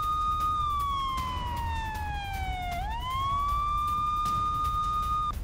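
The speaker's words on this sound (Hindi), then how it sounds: "तेल अवीव में रात भर गूंजा है रेड सायरन" A loud wailing air raid siren in Tel Aviv holds a tone, slowly falls, then rises again and holds, continuous and steady against low background rumble.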